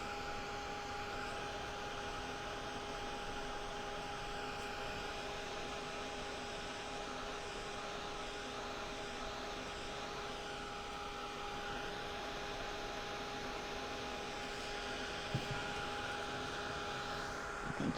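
A heat tool blows steadily while drying a rub-on transfer on canvas, giving a continuous, even whirring hiss at moderate level with no breaks and no talking.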